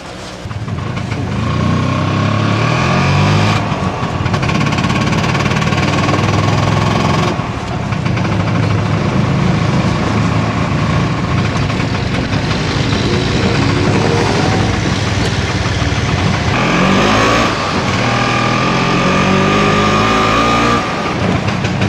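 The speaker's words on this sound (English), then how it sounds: "I can hear that engine." A Cuban taxi engine runs steadily and loudly throughout, a continuous rumbling drone with slight changes in pitch as it revs.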